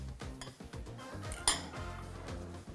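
A fork clinks against a bowl while egg is beaten, rapid irregular metallic taps and scrapes with one sharper knock midway, close and clear with no talking.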